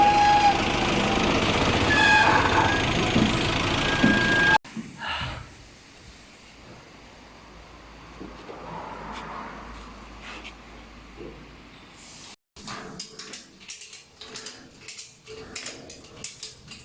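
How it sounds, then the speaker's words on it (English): An automatic block machine's pallet feeding system runs with a dense mechanical rush at first, then drops to a quieter hum before a run of sharp clicking and rattling knocks near the end. "This is the block machine pallet feeding system."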